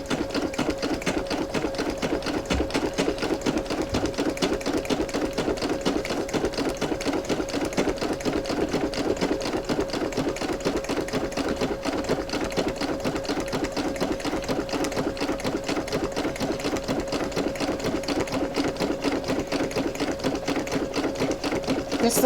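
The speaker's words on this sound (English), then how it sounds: "On my single needle machine." A Brother SE1900 single-needle embroidery machine stitches a tote bag with a riser fitted, running with a fast, steady, loud mechanical chatter throughout and no talking.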